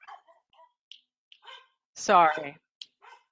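A dog gives a short bark, loud and close, amid brief bits of speech and scattered small noises.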